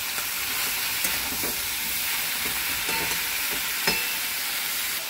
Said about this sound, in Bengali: আর একটুখানি ভাজা ভাজা করে ঢাকা দিয়ে দিই।